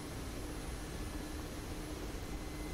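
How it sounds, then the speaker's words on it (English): Mi-8 helicopter in forward level flight over Las Vegas in the DCS flight simulator, a constant loud roar of engine and rotor that holds steady without change or talk. "we're flying along over Vegas here, and we're trying to get ourselves into a position where the helicopter is relatively stable in forward level flight"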